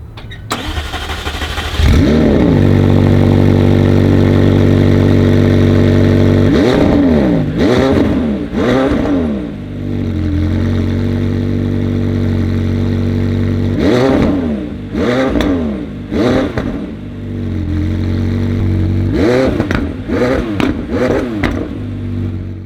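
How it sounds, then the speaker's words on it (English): A 2017 McLaren 720S engine starts with a bark, then revs hard several times, each surge rising and dropping back to a loud rumbling idle with exhaust crackles and pops between. "designed to produce a more emotive sound with more crackles and pops. Let's hear how it sounds."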